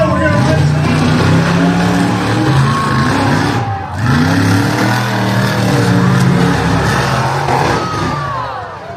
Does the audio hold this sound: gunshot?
no